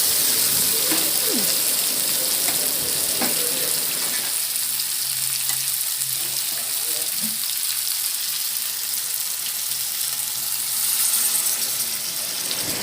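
Rice for basanti polao is stirred and fried in a pan, making a steady, close sizzle with occasional scraping stirs and no talk.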